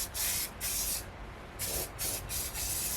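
Spray paint hissing from an aerosol can onto a 1972 Super Beetle part, in four close, steady bursts of roughly half a second each, separated by brief pauses.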